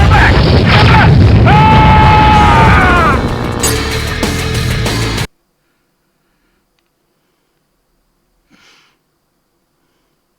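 A crystal creature fires on the player in the video game Godzilla Unleashed, sending out loud swooping, falling electronic blasts and booming hits for about five seconds. A voice cries out among the blasts, then the sound cuts abruptly to near silence.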